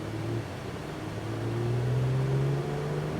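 A Porsche 911 on the Circuit of the Americas track, a steady engine drone with its pitch climbing slowly as the car builds speed, heard from inside the cabin at moderate level, with no talking.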